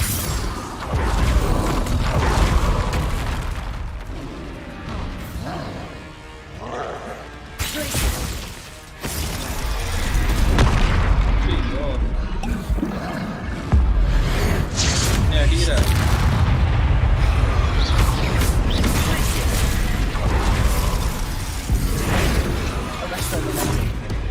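Confringo explosive spell blasts in Hogwarts Legacy, a dense run of loud booming impacts and crashes repeating over game effects, with a voice casting spells partway through.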